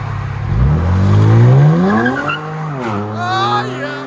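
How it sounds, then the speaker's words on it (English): A 2019 Kia Stinger GT with a 3.3L twin-turbo V6, high-flow rear mufflers, Vibrant mid resonators and rear deletes revs hard. The exhaust note climbs to a loud raspy peak, drops, then rises again, heard up close. "Kia Stinger, high flow rears, vibrant mids, rear deletes."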